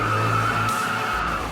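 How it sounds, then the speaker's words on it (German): A Maserati MC12 Corsa, 755 hp in a 1300 kg race car, drifts with a steady, loud tire squeal over continuous engine noise throughout the short burst. "dass ich mit dem Auto auch noch einen Drift hinlegen darf"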